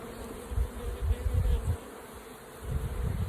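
Honeybee colony buzzing at the hive while it is being reassembled, a dense continuous drone with a swelling low hum and no voices.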